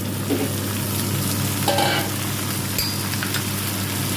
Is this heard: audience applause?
no